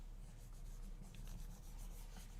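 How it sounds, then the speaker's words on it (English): A stylus pen drags across a drawing tablet surface, a faint, continuous scratchy rubbing with slight variations in pressure, alone and close up. "And now I'm going to click and drag with my pen."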